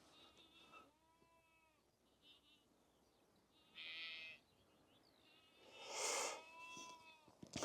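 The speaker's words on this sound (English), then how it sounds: "there's a lot of sheep with their lambs making a fair bit of noise" Sheep and lambs bleat repeatedly during lambing season, several overlapping calls at varying distances, some near and loud, others fainter, with outdoor background noise between them.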